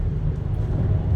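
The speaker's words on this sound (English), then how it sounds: "That sound is the rumble strips that are working on the interstate." Car tires roll over rumble strips on an interstate, giving a loud, low, continuous rapid drumming that fills the short moment with no speech over it.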